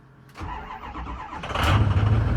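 A 6.0 Powerstroke diesel truck engine cold starts, cranking briefly, then catches and settles into a steady, loud rumbling idle nearby.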